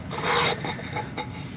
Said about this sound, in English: sand it off, a couple of rubs here